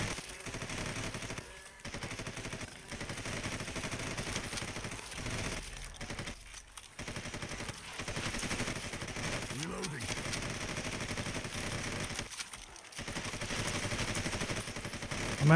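Gunfire in Red Solstice 2: Survivors, dense sustained automatic fire rattling almost without pause over several seconds, with short breaks and a voice speaking through it.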